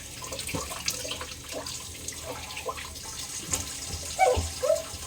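Water runs from a tap as a cooking pan is rinsed at a sink, a steady hiss with faint splashes and a few clinks, near and moderately quiet with no speech.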